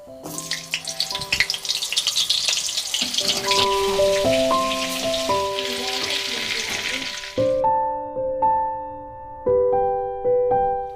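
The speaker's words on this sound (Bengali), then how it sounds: "এবার এর মধ্যে এক টুকরো বাটার দিয়ে দেবো" Butter sizzles and crackles in hot mustard oil for several seconds, a bright steady frying hiss, then stops while a plucked melody keeps playing.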